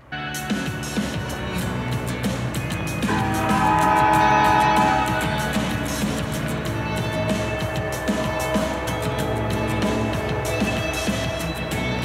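An Alaska Railroad train rolls past in Whittier, its horn sounding long and loud over continuous rumbling wheels and rail clatter.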